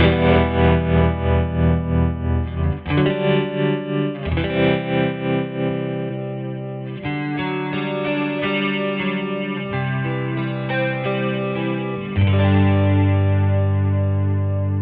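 Electric guitar chords throb with a steady rhythmic tremolo from a Line 6 HX patch matching a Carr Telstar amp, the volume pulsing quickly before shifting into sustained, distorted strummed chords.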